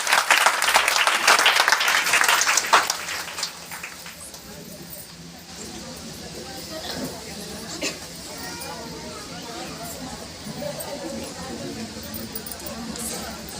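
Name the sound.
audience applause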